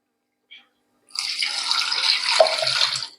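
Water poured into a tumbler for a herbal cough decoction, starting after a small tap and running as a steady splashing stream for about two seconds before stopping.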